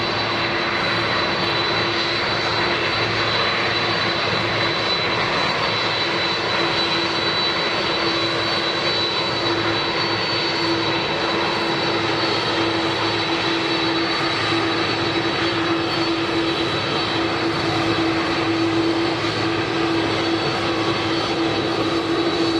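Air Force One jet aircraft arriving at Palm Beach, Florida, drones with a loud, steady engine roar and a sustained whine that holds unchanged throughout.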